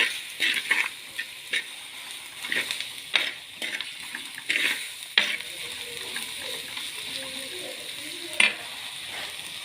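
Pan sautéing in coconut oil for a Kerala-style fish curry, a steady soft sizzle broken by repeated sharp scrapes and clinks of a spoon stirring against the pan, close and moderately quiet with no talking.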